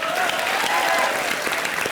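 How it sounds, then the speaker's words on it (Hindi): Studio audience at a comedy show breaks into loud, sustained applause, a dense wash of clapping that fills the whole stretch without letup. "जोरदार तालियां"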